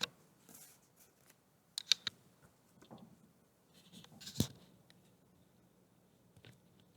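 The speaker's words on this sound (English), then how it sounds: "So I'm going to write all this down." Pen or pencil writing out notes for a calculus lesson: quiet, irregular scratches and taps on paper in short bursts, close by, with no talking.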